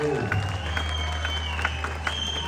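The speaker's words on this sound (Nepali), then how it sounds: "ताली ताली भनेर मागिरहनु पर्ने स्थिति आयो।" An audience at a school felicitation programme in Kalimpong claps, a scattered patter of applause that runs steadily through the clip under a steady hum and some voice-like tones.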